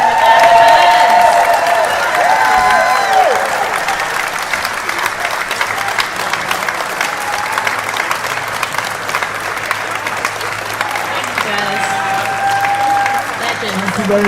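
A large audience gives sustained, loud applause with some cheering after an in-conversation event, the clapping steady throughout with faint voices mixed in.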